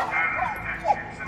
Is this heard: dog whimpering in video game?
yes